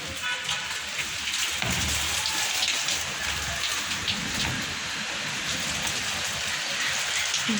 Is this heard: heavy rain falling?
yes